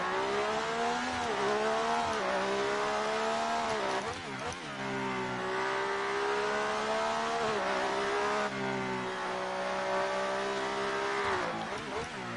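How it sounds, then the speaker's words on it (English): Classic Formula 1 car engine in the F1 2019 video game at the Monaco Grand Prix: a loud, continuous high-pitched wail that rises and dips through gear changes and throttle lifts, heard alone throughout. "And listen to that engine."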